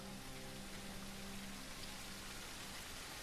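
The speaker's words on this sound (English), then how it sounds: "it is pouring. Rain brings freshness." Rain pours down in a dense, steady hiss with no breaks, sounding faint and distant. A low, even hum runs underneath it.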